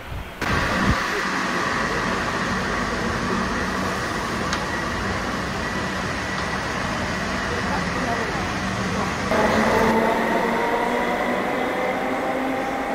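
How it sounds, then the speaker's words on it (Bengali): A Kolkata Metro train pulls out of Noapara station with a loud, sustained rumble and rising whine that swell and then shift as it speeds away, steady platform noise underneath. "মেট্রো ছেড়ে বেরিয়ে গেল।"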